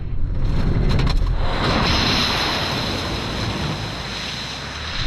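A 2025 Subaru Outback XT wagon drives through a puddle, a loud rushing splash and spray of water over steady road and wind noise that gradually eases off, with no talking.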